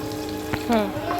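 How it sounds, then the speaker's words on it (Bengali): Whole spices including cardamom fry in oil as tempering for chicken vegetable khichuri, giving a brief, close, steady sizzle with a short clink of a utensil in the middle. "এখন আমি ভালোভাবে মশলাটা ভেজে নেব।"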